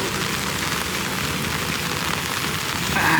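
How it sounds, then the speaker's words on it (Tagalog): Heavy rain pours steadily in a broad, dense hiss on a rainy evening outside a popular bulalo restaurant in Maceda, loud and continuous with no let-up. "Sobrang maulan ngayon."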